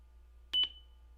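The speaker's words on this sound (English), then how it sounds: "Yeah, it's a loud beep." Loud electronic beep from a laptop motherboard on a repair bench, two quick pulses followed by a steady ringing tone that fades out over a low background hum.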